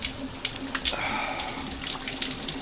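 Water from Fredrick-Miller Spring runs steadily in a close, continuous trickle and splash, with a few brighter splashy bursts on top.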